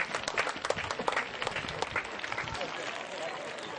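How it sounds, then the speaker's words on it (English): A round of applause from the crowd at a school inter-house sports event, dense, steady clapping with cheering and voices mixed through it, fairly distant. "Give yourself a round of applause,"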